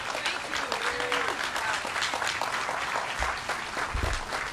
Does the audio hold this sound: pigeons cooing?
no